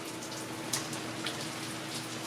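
Rain falling as a steady, fairly faint broadband hiss, with a couple of slightly sharper drop ticks standing out and no voices.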